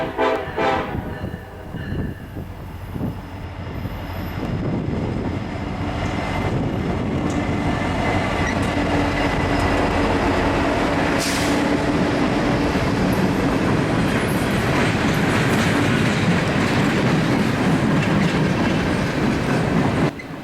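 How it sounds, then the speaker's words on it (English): Freight train 11Z, led by an EMD and GE locomotive pair running elephant style, passes close by with loud horn blasts at the start, then a long steady rumble and clatter of rolling wagons. "the Train 11Z makes its way down the line with an EMD GE power combo running elephant style"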